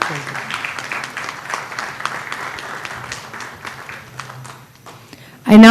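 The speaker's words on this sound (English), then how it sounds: "It's a big round of applause for Abhay Desai, sir." Audience applause at a panel discussion on indirect tax, a steady patter of clapping across the room that runs for several seconds before a loud burst cuts in at the end.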